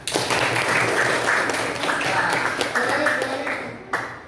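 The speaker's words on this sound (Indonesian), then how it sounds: "Tepuk tangan." Students in a classroom lecture clap in a steady round of applause, close and fairly loud, with voices mixed underneath before it fades out.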